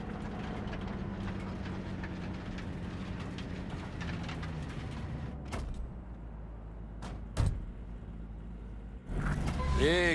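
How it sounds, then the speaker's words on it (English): A train in the Cyberpunk 2077 video game gives a low, steady rumble, broken by a few sharp clanks and ending in a louder hissing rush. "maybe we should just hijack the train"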